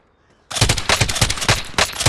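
Rapid automatic gunfire in Warzone bursts in after a brief silence, a loud, fast rattle of close shots continuing to the end.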